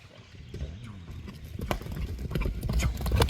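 A horse runs fast on soft ground with clip-clopping hooves, rapid rhythmic thuds that grow louder as it comes closer.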